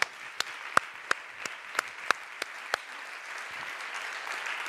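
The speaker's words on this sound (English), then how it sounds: "Round of applause for our panelists," Slow, evenly spaced single claps, about nine in a row, ring out over a soft diffuse background of light applause at a European business and nature summit, honoring a high-level panel.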